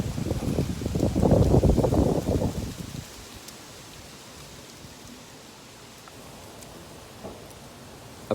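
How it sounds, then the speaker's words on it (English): Wind gusts in a loud, rough rush for a few seconds, then eases to a steady soft outdoor hiss, with a faint knock near the end. "Let the wind pass."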